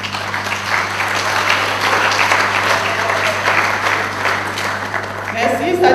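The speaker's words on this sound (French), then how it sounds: "Nous pouvons les applaudir." Sustained applause from a crowd, dense and steady clapping filling the room, with a voice coming in near the end.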